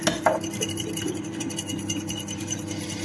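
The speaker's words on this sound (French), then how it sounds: "Hop, une petite fourchette pour mélanger" A fork stirs and taps in a dish of food seasoned with pepper, making light clinks and scrapes close up. A low hum runs faintly underneath, and there is no talking.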